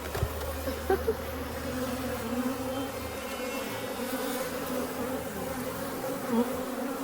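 A steady, dense buzz of many honey bees at a hive hums continuously, close by, with occasional louder passes of individual bees near the microphone.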